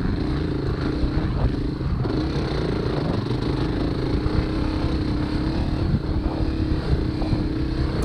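Dirt bikes of AA-class riders roar past during the Horn Rapids hare scramble in sandy terrain, a steady loud engine drone with wind buffeting the microphone throughout.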